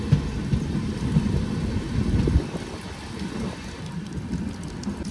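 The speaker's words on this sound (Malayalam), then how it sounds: "നല്ല മഴയാണ് കേട്ടോ അവിടെ" Heavy rain lashes a moving train in the evening, a dense low rumble of rainfall mixed with the noise of the running coach that holds steady for several seconds, with no voices.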